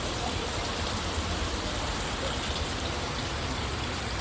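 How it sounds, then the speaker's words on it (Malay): Rain falls steadily in Sa Pa, a dense, even hiss of drops hitting surfaces, constant and moderately loud throughout. "hujan."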